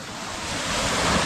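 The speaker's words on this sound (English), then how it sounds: "This section has a bit of wave." Ocean waves at a sandy beach in Tobago, a steady close roar of surf with wind buffeting the microphone, building slightly over a brief moment.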